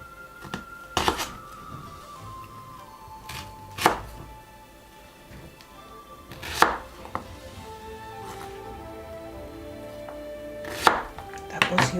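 Knife chopping onion on a cutting board for a pork and bell pepper stir fry, with sharp, uneven strikes that come in scattered bursts amid quiet kitchen clatter.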